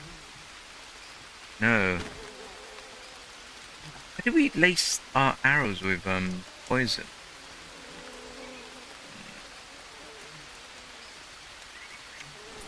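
Steady rain falls throughout in the Green Hell jungle survival video game, a soft continuous hiss beneath a voice speaking in short bursts.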